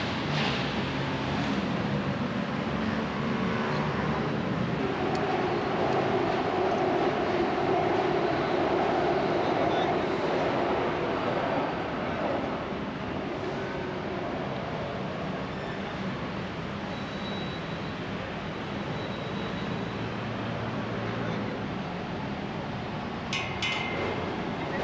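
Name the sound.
Bangkok Sky elevated train passing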